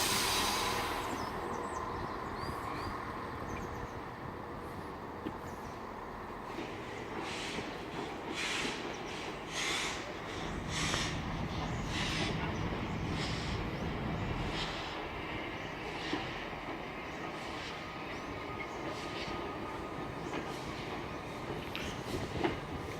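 Steam locomotive Galatea reversing tender first onto coaches at Perth station, a low distant rumble and faint rhythmic clanking in a reverberant station with steady background hum, no voices.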